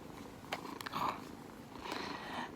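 A cat purrs softly and steadily at close range, a quiet low rumble with small rises in level and no one talking.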